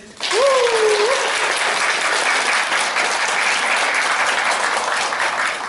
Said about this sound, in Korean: 우리 교육생 여러분들께서는 박수를 크게 쳐주시면 되겠습니다